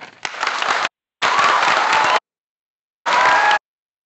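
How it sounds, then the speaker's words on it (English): A school crowd claps and cheers in three abrupt bursts during an amateur radio call to the International Space Station, each cut off by sudden silence as if heard over a switching radio link. "Mark, we would like to give you a huge round of applause for doing this."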